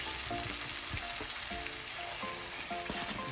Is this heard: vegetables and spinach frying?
yes